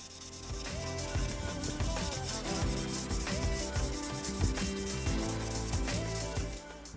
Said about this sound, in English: moved on to sanding it even smoother